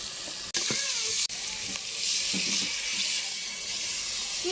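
Onions frying in a pan make a close, steady sizzle with a couple of sharp breaks and light stirring clatter, in a home kitchen cooking a prawn curry with papaya and potato.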